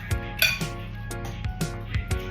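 Metal spoon and fork clink and scrape against a bowl of noodles several times at an irregular pace, close up, with faint background hum.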